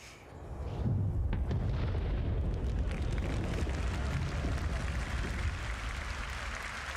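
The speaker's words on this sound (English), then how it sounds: "Finally, the really cool stuff, explosions." Explosion with a delayed shockwave and cinematic effect in the Star Citizen video game: a sharp onset swells into a sustained, loud rumbling roar that slowly settles, heard from a distance.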